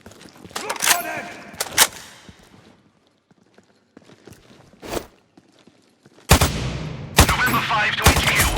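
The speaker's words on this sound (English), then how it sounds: "Just heard gunshots." Gunfire in the shooter game Sniper Ghost Warrior Contracts 2: a few sharp, isolated shots early on, then a loud burst of sustained, rapid fire near the end, with a voice speaking in between.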